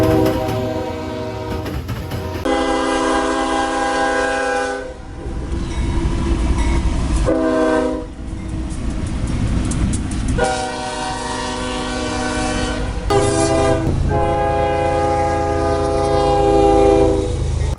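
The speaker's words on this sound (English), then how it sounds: "you love the ES44DC special horn" CSX ES44DC locomotive sounds its special multi-chime horn in several loud, sustained blasts of varying length, separated by short gaps filled with rumbling engine and rail noise, very close and without speech.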